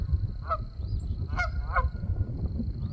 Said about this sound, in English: had a little pond with some geese out there doing their thing